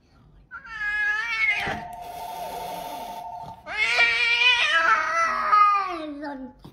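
A cat meows in long, drawn-out wails, close and fairly loud, with a steady tone sounding briefly between the cries.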